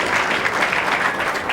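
Spectators at the 2005 US Open pool final in Albuquerque applaud a shot, a close, steady wash of clapping that fills the short moment without any voices.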